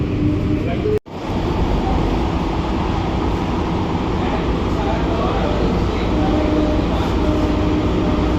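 Inside an AC local train pulling out of Barrackpore station, a steady loud rumble of wheels and motors that runs throughout, broken by one brief dropout near the start.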